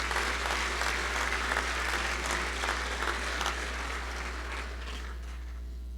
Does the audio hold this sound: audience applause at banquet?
yes